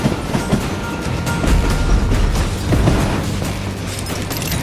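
A train rolls steadily in the video game Call of Juarez Gunslinger, a loud continuous rumble with rhythmic clattering of railcars carrying logs, heard up close without a break.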